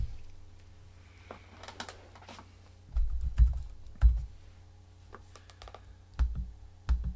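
Soft, irregular keystrokes on a computer keyboard, near and quiet, with a few heavier key presses in short clusters and no talk.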